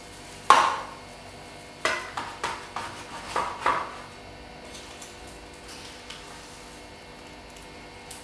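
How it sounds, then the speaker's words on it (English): Sharp knocks of a knife striking a wooden chopping block, one hit cutting a large piece in half, then a cluster of several quick cuts, fading to quiet afterward. "I'm just going to cut this pretty much in half"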